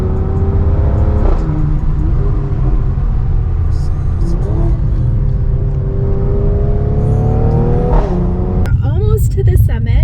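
Car climbing the winding Pikes Peak mountain road, a loud continuous engine drone with rising and falling whine as it shifts and accelerates, heard from inside, with a brief clatter near the end.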